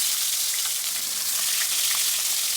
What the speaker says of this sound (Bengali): 2টো পার্শে মাছ ভেজে নিচ্ছি